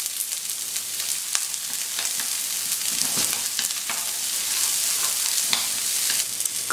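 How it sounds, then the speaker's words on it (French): Onions frying in fat in a wok, a steady bright sizzle with crackling pops and occasional stirring scrapes, close and continuous with no talking. "Dans un wok, vous mettez de la matière grasse et vous venez mettre vos oignons."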